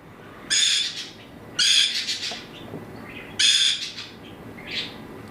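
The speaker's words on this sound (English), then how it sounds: "So the conures, he's singing a song." A pet conure parrot sings in loud, shrill bursts of bright whistling calls, three strong phrases spaced a second or so apart followed by a softer chirp, close to the listener in a quiet indoor room.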